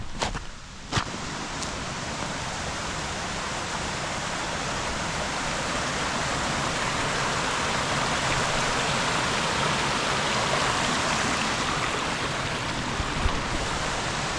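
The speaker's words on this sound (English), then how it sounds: "I'm going to go down and check out the stream." Steady broadband rush of a stream flowing near a bothy campsite, swollen after rain, continuous and fairly loud with no voices over it.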